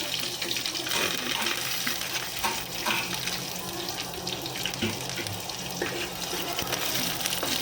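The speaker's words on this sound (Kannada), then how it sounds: "ಈರುಳ್ಳಿ ಮತ್ತು ಕರಿಬೇವು ಸೊಪ್ಪನ್ನು ಕೂಡ ಹಾಕೋತಾ ಇದ್ದೀನಿ." Chopped onion and curry leaves sizzling in hot oil in a pan for idli sambar, a loud steady crackling hiss with occasional stirring clinks, no talk.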